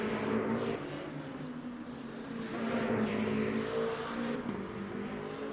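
Two Penske Porsche race cars in Le Mans Ultimate at Imola drone steadily with a sustained engine tone, swelling and easing as they pass, with no talk over them.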